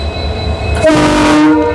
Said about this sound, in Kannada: ನಮ್ಮ ಟ್ರೈನ್ ಲೀಡ್ ಮಾಡತ್ತಿರೋ ಲೋಕೋ ನೋಡ್ರಿದ WDP4 20059